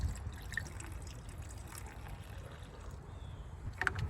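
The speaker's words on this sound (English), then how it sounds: "Add just a hair of coolant" Coolant trickles and gurgles steadily as it is poured into a Jeep Cherokee XJ, a soft, close liquid flow over low background rumble with a few faint drips.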